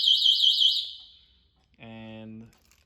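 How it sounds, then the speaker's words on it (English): An electric scooter alarm immobiliser is tested, giving a loud warbling electronic siren for about a second that fades, then after a pause a short steady buzzing beep. "if we want to test the alarm to make sure that it works, you press the bell here"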